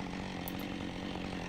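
A chainsaw runs steadily at full throttle while cutting a very long tree stump, a loud, continuous engine roar with no break across the whole stretch.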